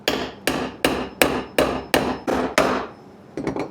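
A hammer drives nails into a wooden gothic arch birdhouse, eight sharp evenly spaced strikes followed by a quick cluster of lighter taps, close and loud with no talking.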